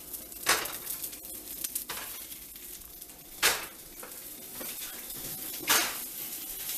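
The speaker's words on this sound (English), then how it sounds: "we'll cook these brats, man." Bratwursts frying in a pan on medium heat with beer nearby, giving a soft steady sizzle broken by a few sharp clanks of a utensil or pan at close range.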